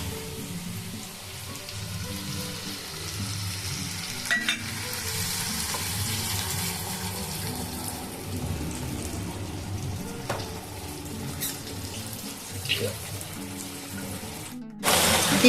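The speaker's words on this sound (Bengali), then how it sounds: "এখন মশলাগুলোকে আমি সব ভেজে নেব।" Ground spice paste with tomato, onion, salt, turmeric and a little sugar fries in a pan for an egg curry: a steady close sizzle throughout, with occasional stirring scrapes and a louder clatter right at the end, and no talking.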